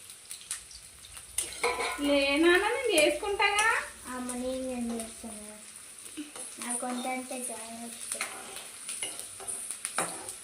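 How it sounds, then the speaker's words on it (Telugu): Onions and green chillies frying in a pan give a steady, thin sizzle with occasional utensil clinks, heard beneath a person talking throughout. "ఇప్పుడేమో ఉల్లిగడ్డలు వేస్తుంది ఫ్రెండ్స్ అట్లానే పచ్చిమిర్చి కూడా వేసేస్తుంది"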